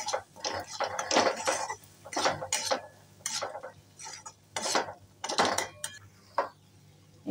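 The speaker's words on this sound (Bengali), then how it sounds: "এবার খুব ভালো করে মশলাগুলো একসাথে ভেজে নেব।" Spices being stirred and fried in a pan, a close run of rhythmic metallic scrapes and clanks from a spoon against the pan, with a faint sizzle underneath.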